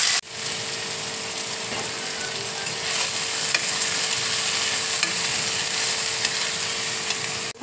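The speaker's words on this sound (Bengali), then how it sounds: "এবার আমি পেঁয়াজ দিয়ে দিচ্ছি।" Sliced onions frying in hot mustard oil in a wok, a loud continuous close sizzle with faint scraping and stirring clicks, heard alone without speech.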